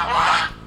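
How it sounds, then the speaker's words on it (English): A goose gives one loud, close, nasal honk, short and harsh, fading quickly. "The geese aren't too happy."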